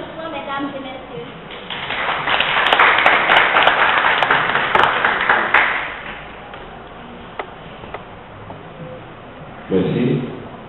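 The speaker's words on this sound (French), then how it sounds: "sur vos applaudissements, mesdames et messieurs" An audience at an ethnology faculty event breaks into applause, building from scattered claps to loud, dense clapping that fades after several seconds, followed by a brief burst of talk.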